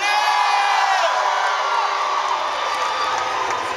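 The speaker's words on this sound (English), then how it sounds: "Let me hear you scream." A rally crowd screams and cheers in one continuous, loud roar of overlapping voices that holds steady, then eases slightly toward the end.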